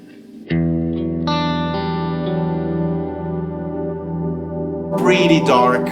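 Guitar through a Cornerstone Nucleo pedal with its tone turned all the way down, a single chord swelling into a dark, sustained pad that holds steadily for several seconds before a rougher, brighter noise burst near the end.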